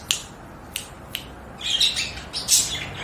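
Pet budgies in a home aviary sanctuary give a few sharp, brief chirps, then a busier burst of overlapping twittering calls near the end, fairly close and moderately loud over quiet room noise.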